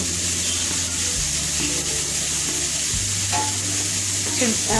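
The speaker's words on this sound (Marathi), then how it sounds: "यानंतर चिरलेला धोडका घालायचा व परतून घ्यायचा" Chopped ridge gourd sautéing in a pan, a loud continuous sizzle with a low steady hum underneath and occasional scraping stirs toward the end.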